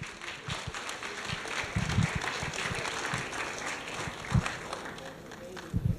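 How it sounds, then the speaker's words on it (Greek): Warm applause from an audience at a hotel association award presentation in Skiathos, steady clapping filling the room with a few louder bursts, under a general murmur. "ένα θερμό χειροκρότημα"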